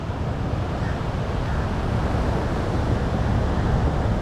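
Steady broadband roar of wind and surf at a Sri Lankan seaside, loud and continuous throughout with no pauses or distinct breaks.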